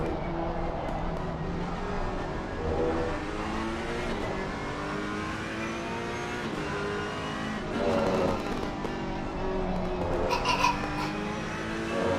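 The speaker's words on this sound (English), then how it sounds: "look at the straight line speed of that BMW" A BMW race car engine at speed during an endurance race at Laguna Seca, a sustained, moderately loud whine that climbs in pitch as it accelerates, with faint tire noise.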